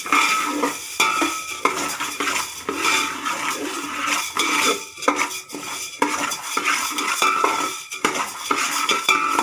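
A utensil stirs coriander seeds dry-roasting in a pan for homemade coriander powder, making continuous close scraping and rattling with a faint sizzle, steady and fairly loud throughout.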